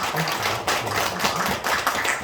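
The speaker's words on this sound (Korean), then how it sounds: "환영의 박수" A church congregation claps in welcome at a Sunday afternoon service in Incheon, a short burst of scattered hand claps with a low voice murmuring underneath.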